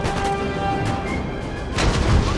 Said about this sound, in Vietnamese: pháo nó bắn thế này sống làm sao được